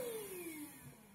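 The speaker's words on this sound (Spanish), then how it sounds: "aquí aplicamos la aspiradora, no sé si me sigan escuchando" A vacuum cleaner whirs steadily close by while dusting an Acer Z1650 all-in-one computer, its motor pitch sliding slightly downward, with no voices.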